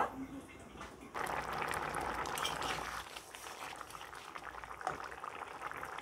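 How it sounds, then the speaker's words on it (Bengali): Taro pieces boiling in a covered pot of water, a continuous close bubbling rumble that rises sharply after a quieter first second and holds steady. "চাপা দিয়ে কচুগুলো সিদ্ধ করে নেব।"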